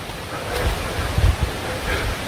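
The Waterfall of Three Fingers in Apiúna, Brazil pours in a steady, broad rushing roar, close and continuous, with no voices.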